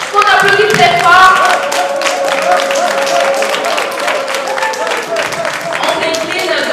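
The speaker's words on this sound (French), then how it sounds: "qu'on applaudit très fort" Crowd applause for M. Kwadomi Horatio on a spelling-champions show in Lomé, steady dense clapping throughout with voices and tonal sounds mixed in underneath.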